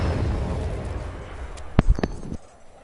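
A rocket explosion in the Fortnite video game: a rumbling low roar gives way to a few sharp bursts and pops close together, then fades to a quieter hum.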